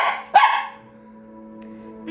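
Puppies barking indoors in a home kitchen, one sharp close yip followed by quieter whining and a faint second yelp, heard alone without talk.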